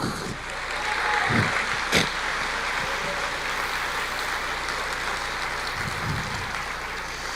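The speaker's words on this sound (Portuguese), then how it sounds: "Você pode aplaudir o Senhor?" A church congregation applauds, a sustained wash of many hands clapping at moderate distance that holds steady throughout with a few louder claps standing out.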